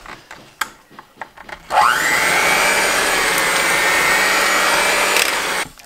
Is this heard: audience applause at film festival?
no